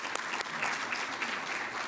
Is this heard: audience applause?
yes